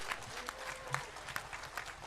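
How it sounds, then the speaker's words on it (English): Audience at a school event applauds the orchestra on stage, a short burst of scattered, fairly faint clapping with individual claps standing out. "A huge round of applause for the orchestra on the stage."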